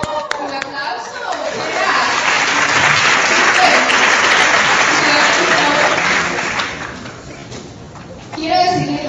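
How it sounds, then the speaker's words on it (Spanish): Audience at an Amway graduation-style gathering breaks into sustained applause, a dense wash of clapping that swells and holds for several seconds before fading, with a voice speaking before and after. "¡Un aplauso!"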